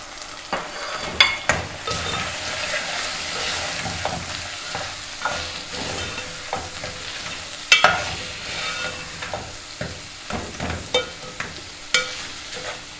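Frozen chopped-tomato cubes drop into qeema (minced meat) with bell pepper cooking in a pan, giving a steady sizzle broken by sharp clatters and stirring scrapes, loud and close, with no talking.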